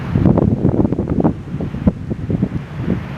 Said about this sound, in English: I'll just stick you outside and show you how windy it is.